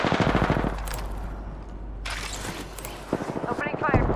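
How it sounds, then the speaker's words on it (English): Rapid automatic gunfire from the video game Apex Legends, played as Caustic, rattles in loud bursts close up, with game voice lines and other game sounds mixed in. "Opening fire."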